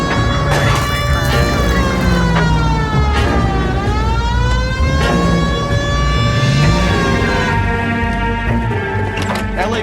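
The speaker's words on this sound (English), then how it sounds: "Hit the siren." A police car siren wails loud and continuous in the video game L.A. Noire, its pitch sweeping up and down in long cycles under a low engine rumble, with no voices over it.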